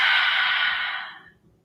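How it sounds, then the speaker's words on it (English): A single open-mouth exhale during power yoga, a breathy rushing breath that is close and clear, fading out smoothly over about a second. "Open mouth, exhale."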